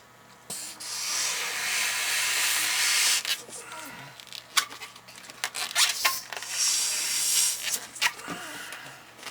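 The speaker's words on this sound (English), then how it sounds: "like a little pinhole leak at the tail there" Air hissing steadily from a small pinhole leak near the tail of a latex twisting balloon, a close, continuous airy hiss broken by rubbery squeaks and handling rubs.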